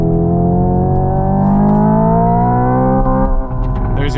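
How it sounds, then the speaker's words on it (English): A 2025 Hyundai Ioniq 5 N electric car plays a simulated engine sound through exterior speakers at high volume, a loud sustained droning rev that holds steady and wavers briefly as it bumps the rev limiter. "There's your rev limiter."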